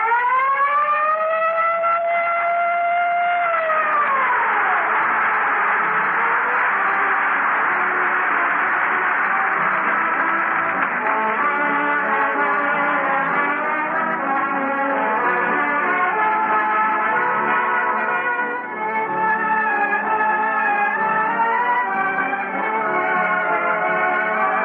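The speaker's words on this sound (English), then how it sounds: "whenever you hear the siren and bell" Texaco radio show sign-off siren, a loud civil-defense-style wail that rises and slides down, then gives way to ringing bell-like tones sustained alone for over twenty seconds.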